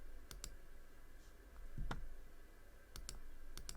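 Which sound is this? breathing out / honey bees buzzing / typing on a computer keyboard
typing on a computer keyboard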